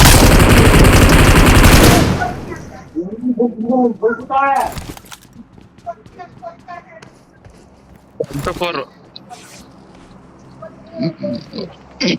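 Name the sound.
gunfire in a battle royale video game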